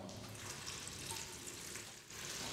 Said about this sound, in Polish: O tak się wlewa, żeby się nie zapowietrzał i nie bulgotał